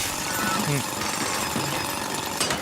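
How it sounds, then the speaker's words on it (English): A bot in a video game drills for spiralite shards on the spiralite islands, giving a steady, loud, broadband grinding drone that carries through the whole stretch, with faint tonal game sounds over it. "you can go ahead and use the bot to drill."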